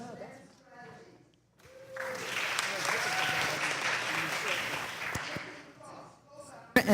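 Audience applause for counterterrorism and intelligence expert and author Malcolm Nance at a congressional panel discussion, starting after a brief spoken introduction and swelling into sustained, dense clapping before tapering off.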